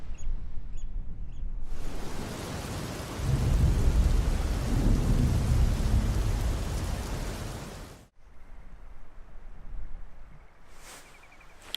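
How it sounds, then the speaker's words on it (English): A loud rush of heavy rain with deep rolling thunder swelling in the middle in Iceland's Westfjords, then the downpour continues more softly. "It looks like there's some heavy rain coming."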